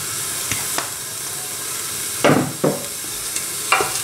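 Grated onion and herbs hit hot olive oil in a cooking pot, sending out a few short, sharp bursts of sizzle and hiss between quieter stretches.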